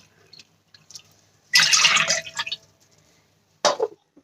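Two bowls of water pour into a pot for making salted peanuts, a longer gush followed after a pause by a short second splash, with faint drips between.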